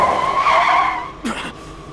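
Car braking with a tyre skid in a film scene: a sustained screech for about a second, then a short burst of noise as the car lurches to a stop, fairly loud and with no voices over it.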